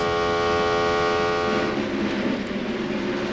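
A 1997 IRL IndyCar race car engine at Las Vegas roars loud and steady at high throttle, a dense harmonic whine that shifts tone partway through as the car enters a corner, with no talk.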